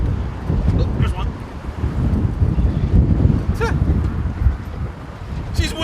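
Steady wind buffets a fishing boat out on the bay, roaring and gusting loudly against the microphone, with faint water sounds beneath and brief voices in the background.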